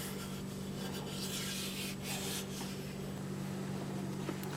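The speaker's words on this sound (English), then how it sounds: "Using my hands to put the boiled linseed oil on." Bare hands rubbing boiled linseed oil onto a wooden hammer handle, a soft, steady continuous friction close by over a low constant hum, with no talking.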